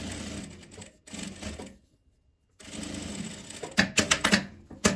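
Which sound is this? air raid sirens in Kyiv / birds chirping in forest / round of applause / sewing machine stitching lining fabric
sewing machine stitching lining fabric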